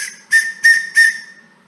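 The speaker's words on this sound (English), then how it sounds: "BCB branded whistle." A BCB branded survival whistle from a survival kit gives three short, loud, shrill blasts in a steady rhythm, close up, with no talking.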